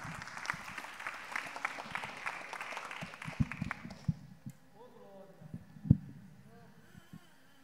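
A church congregation bursts into dense applause for several seconds, then it tapers off into a quieter room with a few scattered sounds and a voice.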